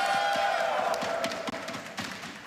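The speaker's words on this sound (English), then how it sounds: "Make some noise, everybody." A live esports crowd fills a Rainbow Six Siege LAN finals venue in Amsterdam with steady cheering and scattered claps, a loud sustained roar of many voices.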